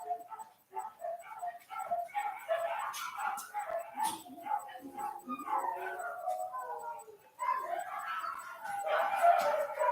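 A puppy barks and yips among other worked-up dogs, with howls and whimpers in a busy, overlapping chorus of sharp bursts at moderate distance, and a voice speaks intermittently.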